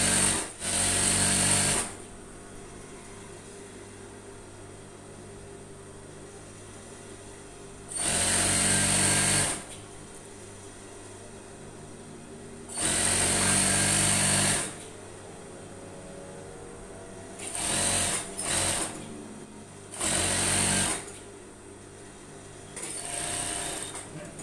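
Sewing machine stitching fabric for an overall with bias-tape straps, running in five or six loud bursts of one to two seconds each with quiet pauses between them, and no talk over the stitching.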